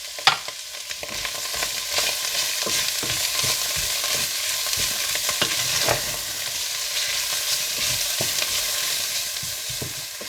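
Noodles being stirred with a chicken cube, ground black pepper and salt in a hot pan for Thai chicken noodles: continuous sizzling and frying with repeated scraping stir strokes, close and fairly loud, no voices.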